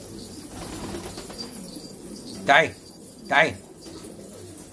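Pigeons coo softly in the background, with two short bursts of wing flapping close by; someone speaks briefly.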